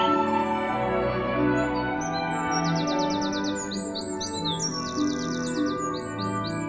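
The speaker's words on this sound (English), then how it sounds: "Young tree sparrow." Young tree sparrow chirping in a garden, thin high repeated chips that become rapid trilled bursts in the second half, close and continuous over steady low background noise.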